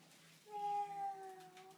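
A person imitates a cat's meow in one drawn-out, tonal call of just over a second, loud and close. Faint room noise sits beneath it, with no other sound.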